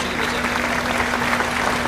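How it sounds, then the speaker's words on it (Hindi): Audience applause welcoming schoolchildren at a stage event, a steady wash of clapping lasting the whole moment with a constant hum underneath. "बहुत खूब तालियों से बच्चों का स्वागत करेंगे।"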